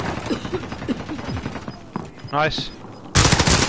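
Gunfire in the video game Call of Duty: Warzone, sharp bursts and single shots mixed with mechanical clicks, with a player briefly speaking over the action.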